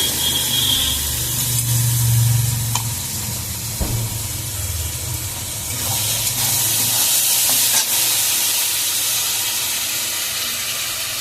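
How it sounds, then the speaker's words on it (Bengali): Ginger-garlic paste fries with spices for a mutton curry, giving a loud, steady sizzle and hiss with occasional spoon clinks, heard close up and alone without speech. "এবার আমি বাটা দিয়ে দিয়েছি, আদা রসুন বাটা।"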